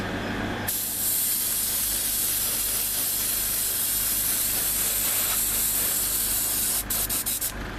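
Airbrush spraying Mr. Color 182 flat clear coat onto a scale model figure kit, a steady close hiss running continuously before sputtering briefly at the end.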